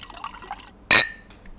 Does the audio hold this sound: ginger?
no